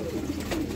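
Pigeons kept for breeding coo softly with a low throaty murmur, a short close phrase over steady background noise.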